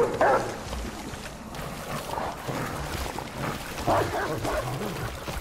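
Dog companion attacking in the video game Remnant: From the Ashes, with barks and yelps over busy combat noise, a voice talking through it.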